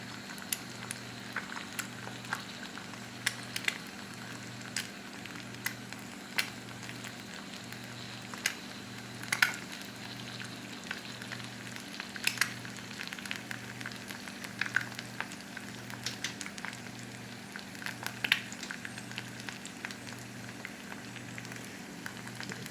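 Steady, soft sizzle of food frying in a pan while the underside crisps, with a chipotle black bean sauce being cooked, a continuous crackling hiss with faint pops and no talk.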